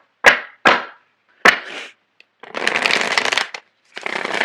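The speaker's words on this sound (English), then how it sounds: "So I'm going to shuffle the cards." A deck of tarot cards being shuffled by hand: three quick riffling snaps, then two longer bursts of dense, close shuffling, with nothing else heard.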